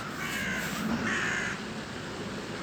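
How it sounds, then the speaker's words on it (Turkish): Crows cawing in a quiet park, a few harsh calls in the first second and a half at moderate distance, then fading into soft outdoor background. "Kargalar var."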